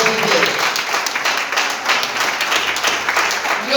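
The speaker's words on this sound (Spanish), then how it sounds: "Denle un aplauso a Dios" Church congregation breaks into enthusiastic applause during a sermon, dense continuous clapping from many hands at close range with faint voices mixed in.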